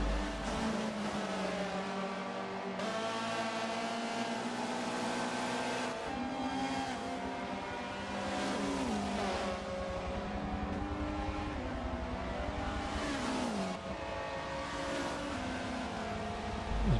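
Touring car engines at the Catalunya circuit in a World Touring Car Championship race, a steady, loud, continuous drone with rising and falling revs and passing cars, no talk.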